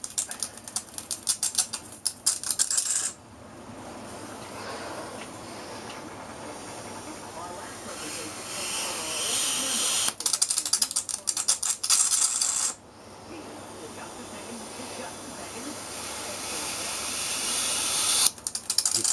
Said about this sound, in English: you can actually see the plasma stream in the corona before the arc fires